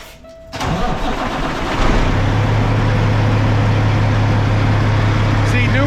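A loud car engine idles steadily close by, a deep constant drone with a low hum underneath, rising a little after a brief starting surge; faint talk may sit under it.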